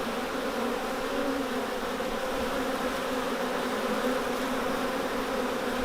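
About forty thousand honey bees buzz steadily while moving into a new hive, a dense continuous drone that holds at an even, fairly loud level throughout with no talking.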